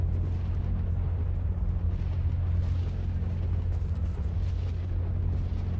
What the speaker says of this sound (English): who is even throwing these grenades?